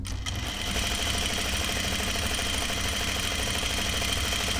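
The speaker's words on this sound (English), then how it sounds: "I'll sew a stitching line as a cheater first" A sewing machine runs a stitching line on men's pants, a close, loud, continuous mechanical hum with rapid needle rhythm after a brief start, no voices.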